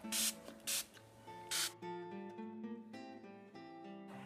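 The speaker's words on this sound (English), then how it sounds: "We'll spray a little bit more water," Water sprayed onto a watercolor painting of an ocean sunset: three quick, loud hissing spritzes from a spray bottle over soft music, which then continues alone.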